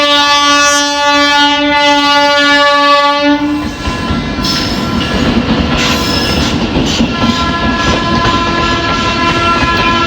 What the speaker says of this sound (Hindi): जो ट्रेन है ना वो पटरी पे आती है